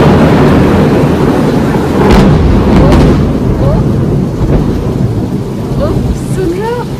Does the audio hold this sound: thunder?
yes